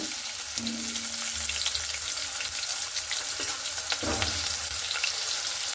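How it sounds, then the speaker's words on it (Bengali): Potatoes fry in hot mustard oil in a kadai, a constant close sizzle with light stirring scrapes and a few louder crackling bursts, and no voices over it. "এখানে আমি আলুগুলোকে খুব সুন্দর লাল লাল করে কিন্তু ভেজে নেব"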